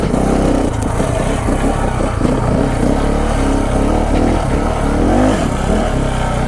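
A KTM 690 Enduro single-cylinder dual-sport motorcycle climbs a loose, rocky hill, its engine droning loud and close with uneven throttle pulses and gravel crunching beneath.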